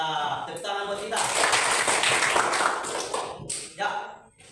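Classroom of students clapping hands together after a teacher's prompt, a loud burst of dense clapping that swells, holds for a few seconds and then trails off into scattered claps.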